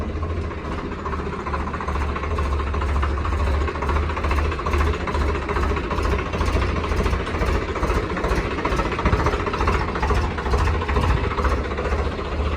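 A 2024 Swaraj 855 tractor engine runs steadily with a rough, chugging rumble, loud and close, continuing without pause and no voices over it.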